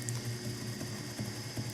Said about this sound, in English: I'm just getting water back from my splash pan